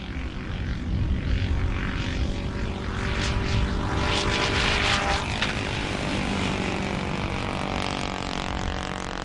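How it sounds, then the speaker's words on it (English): Gasoline-engine weather aircraft, a small unmanned plane carrying miniaturized weather sensors, drones steadily with a propeller buzz and engine hum that stays loud and continuous, swelling slightly as it passes. "It's a simple enough machine powered by a gasoline engine, but an engine that can keep it flying for up to 4 days."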